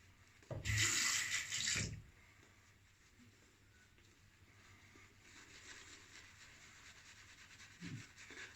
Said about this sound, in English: I'm going to start letting some water in.